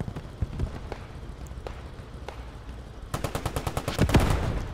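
Gunfire in the Squad 44 battle at Utah Beach, where a German PaK anti-tank gun duels a Sherman: scattered sharp reports at first, then a dense rapid volley of shots building to a louder burst near the end.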